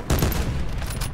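Rapid gunfire from Call of Duty Black Ops 4 on the Nuketown map: a loud, dense burst of automatic shots rattling without a break, up close and alone.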